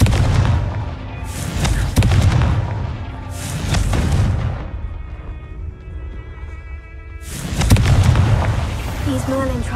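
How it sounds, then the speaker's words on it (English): A Confringo blast spell goes off in a Harry Potter video game, several booming explosive bursts hitting in quick succession with rumbling tails, louder near the start and again near the end, with game speech and effects mixed in. "Confringo!"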